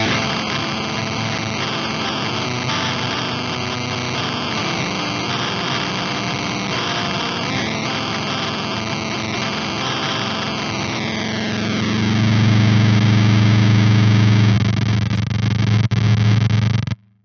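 Electric guitar runs through an EarthQuaker Devices GARY fuzz pedal, giving a thick, buzzy, heavily distorted tone with swooping pitch sweeps that settle into a loud sustained low drone before cutting off abruptly.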